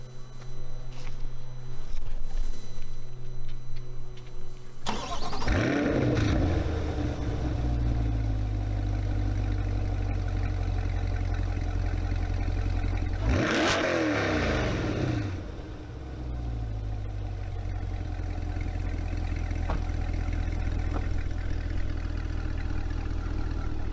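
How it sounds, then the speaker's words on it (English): A 2020 Corvette C8 3LT Z51 with the LT2 engine starts up in sport mode, a loud crank and bark near five seconds, then settles into a deep idle and gives another sharp rev around thirteen seconds before idling on. "see what this LT2 sounds like on startup in sport mode"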